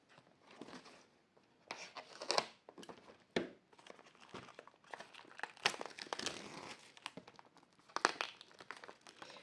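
Faber-Castell pencil packaging being opened, with bursts of crinkling and tearing plastic or cardboard up close, irregular handling noises spread across the whole stretch with brief quiet gaps between.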